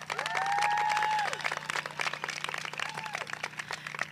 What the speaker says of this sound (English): give yourselves applause, come on